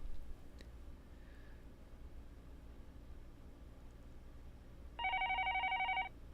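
A telephone rings in the Higurashi Meakashi visual novel, one bright electronic trilling burst lasting about a second near the end, over a quiet, low background hum.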